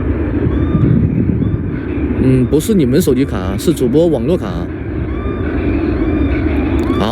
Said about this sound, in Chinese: 尾部的升降舵往下一压，15度仰角进行抬轮。